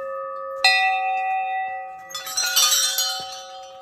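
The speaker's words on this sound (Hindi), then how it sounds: "पूरी जगह यहाँ पर घंटियाँ बंधी हुई हैं" A temple bell at Badhangarhi Temple in Gwaldam, Chamoli, rings out with a sharp strike and a long, sustained metallic tone, followed by a burst of jangling from many more bells ringing together nearby.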